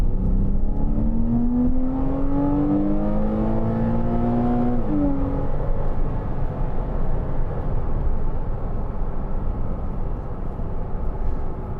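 A 2012 Porsche Cayman 2.9 with PDK gearbox accelerating, its engine note rising steadily in pitch, then a quick gearshift and a continued loud drone under heavy road and cabin noise.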